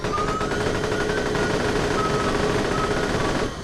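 A freeze gun in Borderlands fires on full auto in one continuous, loud stream of rapid shots with a ringing, tonal quality that holds steady for over three seconds before cutting off.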